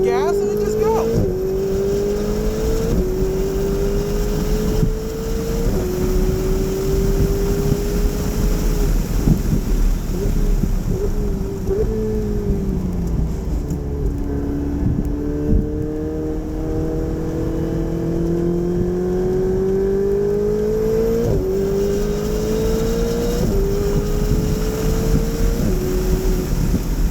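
Tuned 2018 Ferrari 488 Spyder with a Gintani tune pulling hard on a racetrack, its engine note rising steadily through several long climbing sweeps with brief dips at each shift, loud and close under steady wind buffeting, with a voice talking over it.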